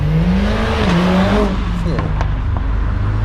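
A Mercedes-AMG A45s engine revs loudly nearby, pitch climbing and dipping, with a voice speaking over the roar and a sharp blip at the end.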